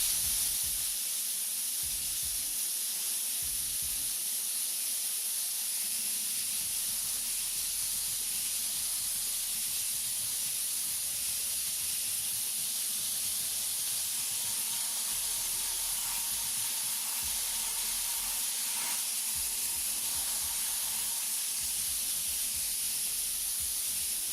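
An airbrush sprays paint for a drop shadow with a continuous soft, airy hiss, close and steady over a long stretch, with small shifts in intensity.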